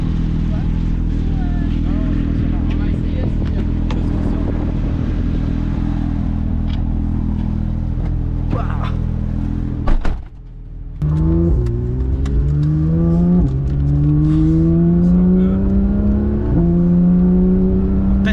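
Porsche 911 GT3 at speed on a race track below a château, a loud steady engine drone inside the cabin, then a brief dip and rising revs as it accelerates through the gears.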